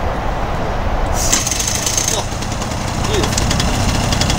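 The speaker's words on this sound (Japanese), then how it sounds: "エンジンかかろうかどうかっていうところですよ" Attempt to start the engine of a 1988 Honda PAX Club moped: loud, rough mechanical clatter and knocking with a brief higher whine partway through, steady throughout.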